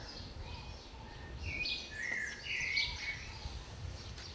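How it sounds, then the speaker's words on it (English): Birds sing outdoors in faint, scattered chirps and warbles over a soft, rustling background hiss. "hear the sounds of the birds and the rustling amongst them"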